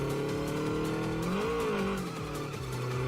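A car slides through a handbrake drift in the racing game Redline Reverie, with a steady engine drone and a rising, bending tire squeal across the turn, loud and continuous with no voices.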